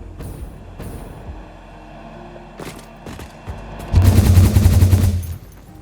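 A hyper cannon launches in the Satisfactory factory-building game, a loud rushing whoosh that swells suddenly near the end after a few scattered thumps and clanks.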